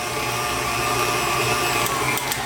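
A stand mixer runs at a raised speed, creaming butter, sugar and egg yolks for a chocolate almond cake, a steady whirring motor hum with a faint rattle near the end and no talk.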